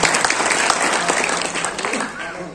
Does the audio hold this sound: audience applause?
yes